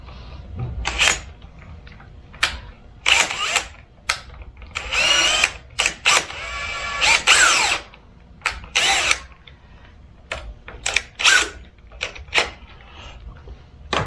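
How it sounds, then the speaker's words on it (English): A power drill bores through sunscreen fabric for a roll-up porch screen, with short whirring bursts and a few longer runs, close and moderately loud, mixed with handling clicks. "So if I spin backwards first, I melt a hole in the fabric, and then when I drill it, it does less twisting, less damage."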